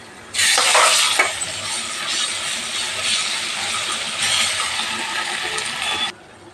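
Ginger garlic paste stirred into frying onions for a fish curry, a steady loud sizzle with spatula scrapes and a clink near the start, cutting off abruptly at the end.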